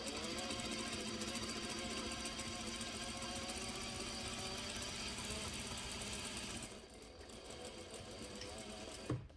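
A sewing machine stitches a flat-felled seam in fabric, a fast continuous mechanical whir close by that runs steadily, briefly stops, then resumes for a short burst.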